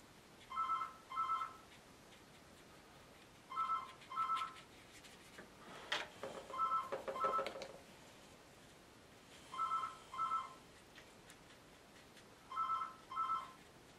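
A telephone rings indoors during a watercolour painting session, repeated pairs of short electronic trills at regular intervals, moderately loud, with faint rustling between rings and no talk.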